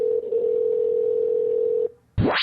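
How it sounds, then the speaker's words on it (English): Steady telephone dial tone holds for nearly two seconds as a call is placed, then cuts to a brief silence before a quick rising electronic tone. "Hold on, let me get him on the phone."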